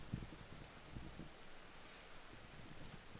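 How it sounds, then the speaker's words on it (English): Rainfall in the Vintage Story video game, a soft, faint, steady patter of drops with a few low thumps early on, continuous and distant-sounding throughout. "It's raining and the fire's still going."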